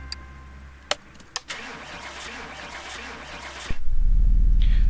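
Car engine starting in the video game Car Mechanic Simulator 2018: a few sharp clicks, a short cranking stretch, then the engine catches into a loud, steady low rumble.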